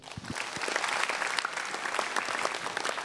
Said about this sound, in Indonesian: Sekali lagi boleh tepuk tangan buat Mas Wahyu Togo